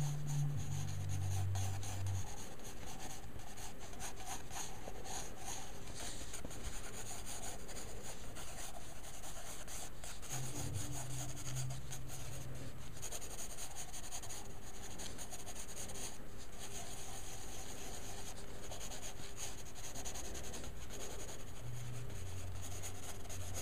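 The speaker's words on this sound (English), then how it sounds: "I'm just trying to sketch out a bit of the shape." A pencil scratches and rubs across paper while a fantasy warrior figure is loosely sketched out, a continuous soft scraping of strokes with no talking over it.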